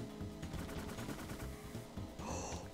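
Rapid gunfire from the Parasite Eve video game, dense bursts of shots layered over game music, loud and continuous throughout with a brighter burst near the end.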